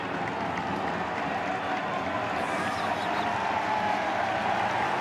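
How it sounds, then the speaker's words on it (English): Baseball crowd at an NCAA Baseball Championship game between Louisville and Miami, heard as a steady, distant wash of crowd noise and scattered clapping that holds at an even level from start to finish. "Does that constitute a Bronx cheer here"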